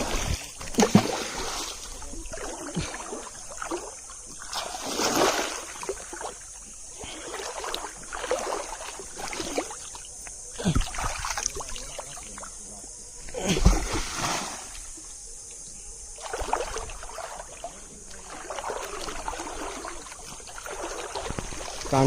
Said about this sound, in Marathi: तर आपण आता दगड मारूया